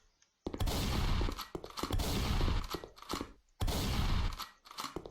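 Shotgun blasts in a Unity first-person shooter tutorial game, two long loud booming bursts with a sharp attack and a ringing tail, separated by a brief silence, with smaller impact thumps between them and no talk.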